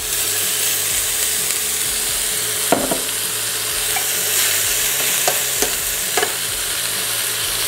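Leeks sizzle in butter and neutral oil in a frying pan, a loud steady crackle close up, broken by a few sharp scrapes of stirring.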